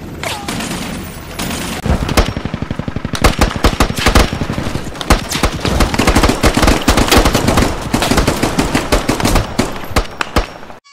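Sustained gunfire with people shooting: rapid, dense bursts of machine-gun-like shots and scattered single cracks, loud and continuous for most of the stretch after a quieter opening.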